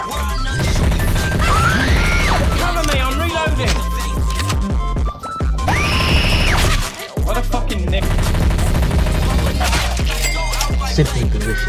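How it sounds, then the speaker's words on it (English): Heavy machine gun fire in a third-person shooter game, loud, dense and continuous, mixed with music, crashes and impacts, with only brief dips in the barrage. "Heavy machine gun!"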